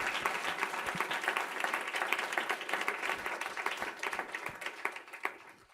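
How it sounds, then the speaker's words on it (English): Sustained audience applause after a mentoring session's closing speaker, dense continuous clapping from a crowd that holds steady and fades slightly toward the end, with no voices over it. "You were so good, people just clapped and said."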